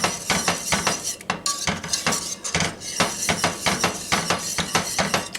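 A utensil stirring dry wine into a thickening clam alfredo sauce, a steady run of rhythmic metallic scrapes and clinks against the pot, close and fairly loud, repeating about twice a second with no talk.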